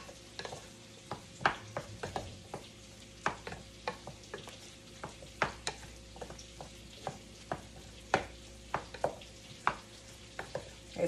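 Boiled potatoes with butter are mashed by hand, giving soft squishing thuds and clinks of a utensil against the pot in a steady irregular rhythm, close and fairly quiet.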